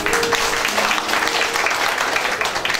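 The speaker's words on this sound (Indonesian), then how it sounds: "Tepuk tangan." An audience at an Indonesian gathering bursts into brief applause, a dense patter of clapping with a voice faintly mixed in.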